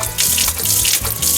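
Water pours steadily from a watering can onto a seedling on a farm in a video game, a continuous splashing gush with brief dips in level and no voices.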